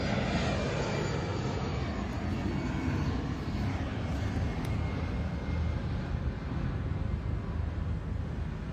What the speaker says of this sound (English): Sometimes the planes are so loud that I can't even speak anymore.